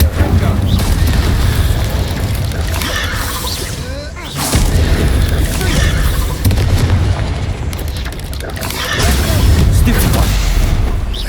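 Confringo spell blasts in Hogwarts Legacy burst as repeated loud booms and crashes, several explosions rolling one into the next with heavy low rumble.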